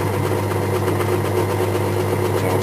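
A drill runs steadily while boring a hole for a bolt pen, giving a continuous loud mechanical drone with an even hum and no pauses.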